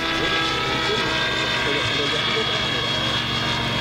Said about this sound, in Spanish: Este helicóptero, que era un TR-700 Nitro, que estaba pasado a eléctrico